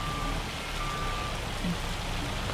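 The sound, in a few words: hail falling in Farm Sim 25 video game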